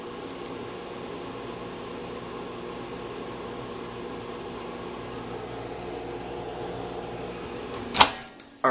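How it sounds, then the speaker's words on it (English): A microwave oven heating a Twinkie gives a steady low mechanical hum, then a sharp click or beep near the end as it stops. "I am going to microwave it for another 10 seconds to see what happens."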